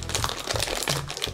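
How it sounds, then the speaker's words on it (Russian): A crinkly plastic surprise toy packet is torn open up close, giving a dense burst of crackling, rustling plastic that lasts about a second and a half, with no talking. "Ну и последний пакетик, друзья. Посмотрим, что в нем. Итак, открываем и достаем."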